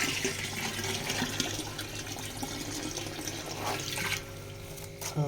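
Murky, dirty water in a tilapia pond on a recirculating system, stirred and swirled by hand, making a soft continuous sloshing and churning close by, fairly quiet, with no talking.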